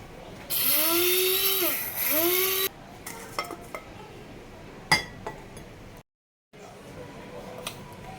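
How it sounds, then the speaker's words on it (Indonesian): An electric blender grinds sugar in a kitchen, a loud, high whirring burst of about two seconds with its pitch dipping and rising. Then it stops, leaving scattered clinks and small handling noises. "Kita blender dulu gulanya."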